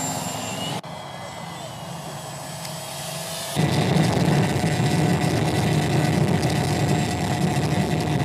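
A steady airplane engine drones loudly and continuously, with a sudden jump in intensity midway as if the aircraft powers up or passes closer.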